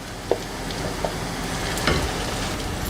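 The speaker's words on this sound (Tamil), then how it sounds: "அடுத்தது நம்ம அரைச்சோம் இல்லையா, அந்த மசாலாவை இதில் சேர்த்துக்கலாம்." Ground masala sautéing in a pan with green chilies and curry leaves for kaarakuzhambu, a steady close sizzle with a few light spoon taps and stirring scrapes.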